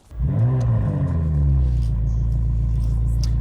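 A BMW M5 Touring engine in sport mode idles with a deep, steady rumble after a brief rev at the start, loud and close, with no talking.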